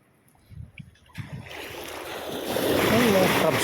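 Boat approaching along a beach shoreline, a low engine rumble building steadily from faint to loud over waves and wind buffeting.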